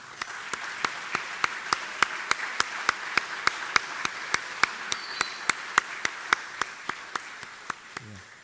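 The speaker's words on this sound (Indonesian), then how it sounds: "kita memberikan tepuk tangan yang paling meriah untuk mereka ya" A standing church congregation in Surabaya claps in unison, sharp even beats repeating at a brisk steady rhythm for several seconds, moderately loud in a reverberant hall.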